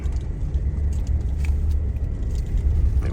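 A car drives on snowy mountain roads, its engine and tyres making a steady low interior rumble that stays constant and fairly loud with no talking.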